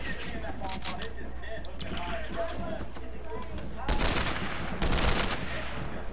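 Bursts of rapid gunfire in a Fortnite match, several volleys crackling over a steady game backdrop, with louder shots near the end and a player talking throughout.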